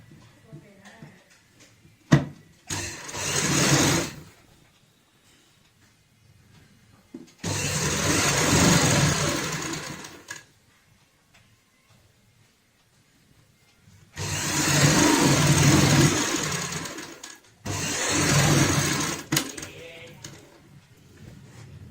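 A sewing machine stitches strips of fabric together for a handmade doormat, running in four loud bursts of a few seconds each, separated by quiet pauses.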